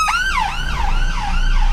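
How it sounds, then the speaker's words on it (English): An ambulance siren wails loud and close, its tone sweeping up and down in a repeating cycle, alone with no voices over it. "It's the ambulance."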